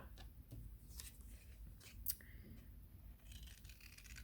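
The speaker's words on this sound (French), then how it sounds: "tu vas découper tous tes petits cœurs comme ça" Scissors snip paper as small hearts are cut out for a Mother's Day card, quick close crisp cuts and rustles repeating irregularly at low volume.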